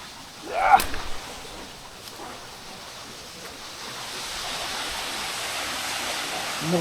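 Fairlawn waterfall at Upcot, Sri Lanka, a steady broadband rush of falling water heard at a moderate distance, with a brief louder burst near the start.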